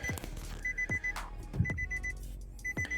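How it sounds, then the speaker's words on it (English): A car's repeated electronic warning chimes beep in a steady rhythm over a low engine hum, with a few dull clicks in between. "it's beeping because I guess I don't have no center console"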